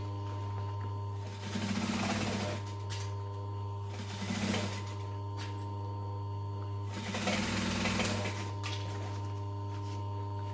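Sewing machine stitching around a tote bag: a steady low motor hum runs throughout, with a few short louder bursts of stitching at intervals, close by.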